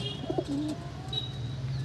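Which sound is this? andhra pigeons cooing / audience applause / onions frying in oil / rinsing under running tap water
andhra pigeons cooing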